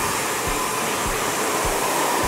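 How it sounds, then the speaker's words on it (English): A hair dryer blows steadily and loudly throughout while hair is blow-dried in a flat wrap, the airflow wrapped around the head; a continuous, even whoosh with no talk. "you're just kind of wrapping it around the head and blow drying the hair shaft down"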